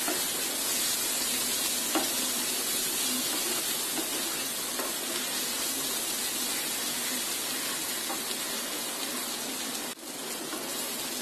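Spices frying with tomatoes in a pan while grated boiled eggs are about to be added, a steady close sizzle throughout with occasional stirring scrapes and no talk.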